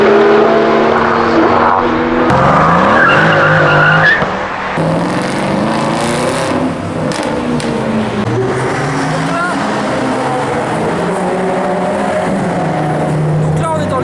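Race cars on warm-up laps at the Nürburgring during a VLN endurance race: loud engines rising and falling in pitch as they pass, overlapping one another, with voices in the background.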